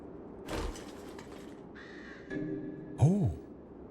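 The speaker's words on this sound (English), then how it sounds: "it's a stupid crow that I hear" A crow caws in the horror video game Dead Format, one loud, close, rising-and-falling call standing out after quieter scuffs and a brief tone, with no talk over it.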